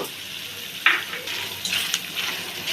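Onion paste hitting hot oil for a rohu fish kalia, giving a brief burst of crackling sizzle that flares up and then keeps up as a brisk hiss for a few seconds.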